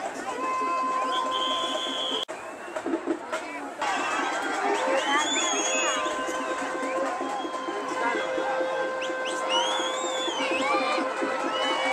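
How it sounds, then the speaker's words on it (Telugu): A large crowd shouts and cheers at a village Gangamma temple festival, with a dense mass of voices and whistles continuing throughout, loud and close. "అరుపులు కేకలు"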